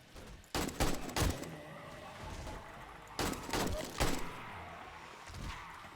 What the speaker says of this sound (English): let's shoot the ones actually trying to get me